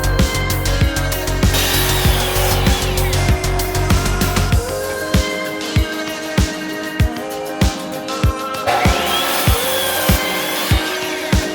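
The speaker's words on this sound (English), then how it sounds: "We're just cutting points at the end of them so they're easier to jackhammer in." Power saw cutting points into the ends of wooden fence posts, a loud rasping whine broken by a steady run of sharp rhythmic strokes, with harsh high-pitched cutting passes near the start and again near the end.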